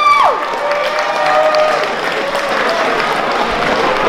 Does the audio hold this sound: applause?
yes